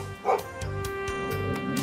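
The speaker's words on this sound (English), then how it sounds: "We've got a barking dog over here." A dog in Trails of Cold Steel 3 gives a short yip and then a few soft barks and whimpers, fairly quiet over a steady game music bed.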